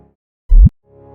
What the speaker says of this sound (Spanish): Lo que acabas de oír es el sonido de dos agujeros negros fusionándose para formar uno aún más grande